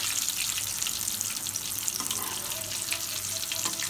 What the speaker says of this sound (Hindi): अब हम इसको डीप फ्राई करेंगे